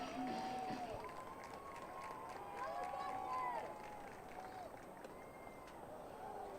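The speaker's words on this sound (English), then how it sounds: "The crowd is loud and on their feet here in Olney." Baseball crowd at an Olney Cropdusters game against the Big Train, cheering and murmuring in a steady broad roar, with scattered whistles and shouts rising above it and a few claps under an announcer's voice.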